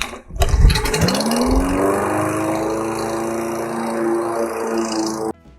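Lawnmower engine after its blade was sharpened: a sharp pull-start catches and settles into a steady, loud, close running drone, then cuts off abruptly at the end.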